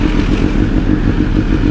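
A tuned 2022 BMW S1000R motorcycle engine rumbles close and loud as the bike pulls away, with a deep, pulsing low-end throb and some rattle.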